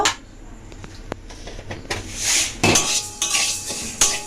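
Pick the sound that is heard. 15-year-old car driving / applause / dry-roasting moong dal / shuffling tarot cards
dry-roasting moong dal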